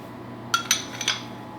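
A metal spoon stirs semolina into potatoes in a baking dish, giving four quick, bright clinks against the dish amid quiet room tone.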